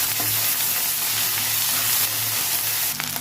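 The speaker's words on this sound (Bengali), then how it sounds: "ভালো করে ভেজে নেবো।" Onion, green chillies, ginger and garlic fry in hot oil in a kadai, giving a steady, close sizzle that holds through the short stretch with a faint low hum beneath.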